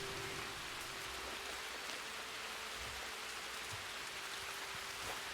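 Steady rain pours down in the RedM western roleplay world, a constant broadband hiss of drops on surfaces that runs evenly through the whole stretch with no talk.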